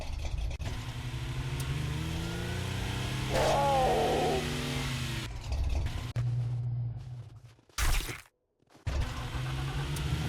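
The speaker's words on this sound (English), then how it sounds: "There's a mountain lion" A mountain lion snarls in the survival game 7 Days to Die: a short, rough, tonal snarl rises briefly midway over a steady drone of vehicle engines, followed by sudden dropouts and a sharp burst near the end.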